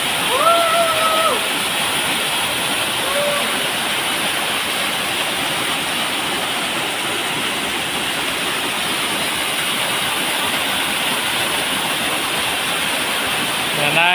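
A waterfall inside Langun Gobingob cave in Samar, Philippines, roaring as a loud, steady rush of falling water that fills the space throughout, with brief faint voices briefly audible near the start.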